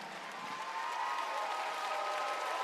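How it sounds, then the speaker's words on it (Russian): Steady applause from a circus festival audience after a diabolo act fills the whole stretch, dense clapping holding at an even level with no voices standing out. "ну тогда еще раз ваши аплодисменты лучшему диаболисту из тех, что я знаю, Акира Фукагава, Япония."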